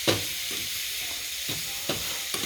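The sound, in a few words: wild mushrooms frying in butter on a gas oven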